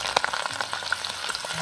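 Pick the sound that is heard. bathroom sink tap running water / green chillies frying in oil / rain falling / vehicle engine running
green chillies frying in oil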